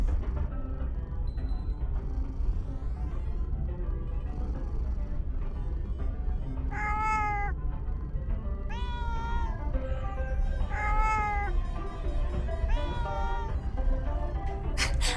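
A cat meowing in the horror visual novel Pink Noise, several clear, rising meows in a row over a steady background hum.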